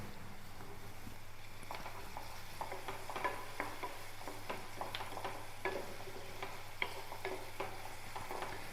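Small pieces of chopped ginger and garlic fry in a pan on a home stove, giving a steady, soft sizzle with scattered ticks and the clatter of stirring, fairly quiet and with no speech.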